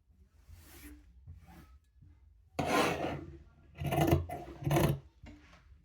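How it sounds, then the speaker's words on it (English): Scissors snip and rasp through fabric while a princess dart bustier is cut out freehand, starting with a few soft cuts and building to several louder close crunching strokes near the end. "And that's my dart, cutting it out."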